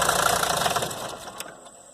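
Mercedes-Benz diesel engine refusing to shut off, running on blow-by after the key is turned off, a loud knocking idle that fades and sputters down within two seconds.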